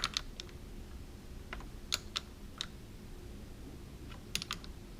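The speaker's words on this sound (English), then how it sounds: "I'm going to hold the bolt while I tighten down the nut" A socket wrench ratchets in quick, light clicks while tightening a nut, as a 10mm box wrench holds the bolt on a Honda Goldwing battery terminal. The clicks come in short scattered bursts over a quiet background.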